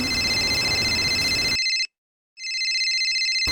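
A telephone rings loudly in a bright electronic trill, stops for a brief silent gap, then rings again.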